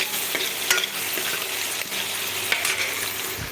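Onion and tomato fry in a pan with cumin and spices for a potato-cauliflower curry, giving a steady close sizzle broken by soft scraping stirs and occasional clinks, with no voices.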